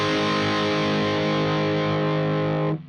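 Distorted electric guitar played through a Soldano SLO 100 tube amplifier, a sustained high-gain chord ringing loud and steady for nearly three seconds before being cut off abruptly.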